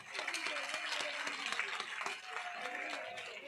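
Crowd applause at an outdoor village public meeting in Tewdi, Gannaur, Haryana: steady, sustained clapping from a sizable gathering, moderately distant and even throughout, with faint voices mixed in.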